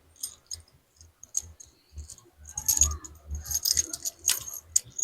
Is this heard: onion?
no